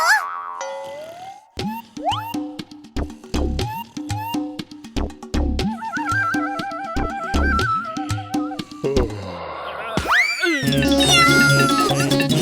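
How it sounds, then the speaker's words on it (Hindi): Cartoon cat meowing amid a busy animated action scene full of boings, sliding effects and music, the cat calls brief and mixed into loud cartoon sound effects. "कोई बिल्ली है।"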